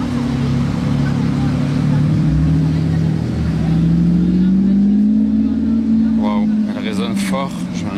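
Loud engine of a rare Bugatti Mistral in Monaco droning and rising in pitch as it revs, a strong sustained roar with a late burst of higher-pitched noise, and a voice faintly over it.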